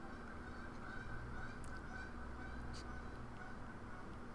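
Geese honking as they fly around outside, a few faint calls over a steady background hum with some speech-like murmur.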